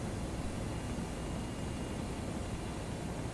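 AH-64 Apache helicopter in the MSFS 2024 flight simulator gives off a steady, fairly quiet whooshing drone of rotor and engine noise. It holds even throughout with no distinct beats, and nobody speaks.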